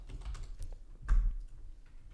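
Typing on a computer keyboard while naming a group in the Beegraphy data-tree editor, a short quick burst of close key clicks with one firmer press near the middle, with no talking.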